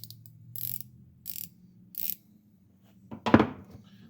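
Three short buzzing bursts of rapid clicks from a Gearwrench flex-head ratchet wrench, followed by a louder metallic clunk, close up with no talking.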